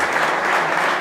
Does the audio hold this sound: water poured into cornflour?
no